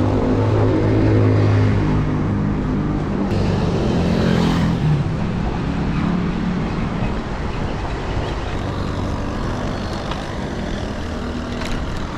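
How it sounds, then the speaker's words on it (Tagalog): Heavy road traffic with many trucks on a busy Pampanga road heading toward NLEX, a loud continuous rumble of engines and tyres with a big vehicle roaring close by early on, then a steady dense wash of passing traffic. "Marami ng truck dito, kaya traffic."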